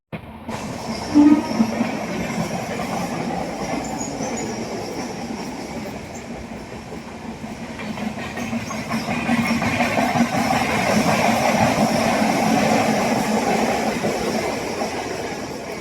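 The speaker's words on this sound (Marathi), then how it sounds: "ही रात्रीची ट्रेन आत्ता आली." The overnight Pune–Madgaon train rolls into a station with a rumbling, rattling wagon roar that swells louder in its second half, a short horn-like tone near the start, and wheels clattering steadily along.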